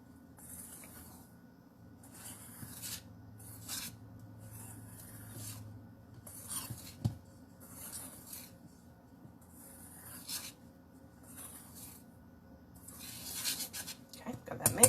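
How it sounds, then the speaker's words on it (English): A small whisk stirs ingredients together in a bowl for an upside-down strawberry shortcake, making rhythmic scraping strokes in regular bursts against a low background hum. "Then I'm going to take a little whisk and I'm going to stir those together."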